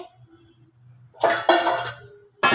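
An iron kadai set down on a stove gives a couple of loud metallic clanks and scrapes over a faint low hum, with one more short clatter right after.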